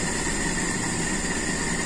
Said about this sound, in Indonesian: RPM saya memang stasioner yang terlalu rendah.